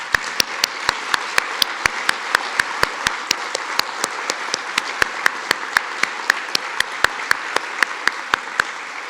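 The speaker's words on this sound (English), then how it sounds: "Let's give them a round of applause." Audience at a 9/11 remembrance ceremony applauds New York City firefighters, a steady wash of clapping punctuated by sharp, evenly spaced loud claps close by, continuing throughout.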